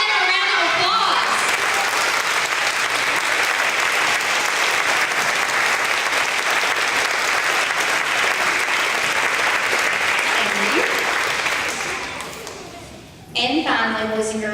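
Audience of children and parents applauding first grade teachers at an elementary school awards event, sustained loud clapping that fades near the end before children's voices and a speaking adult take over.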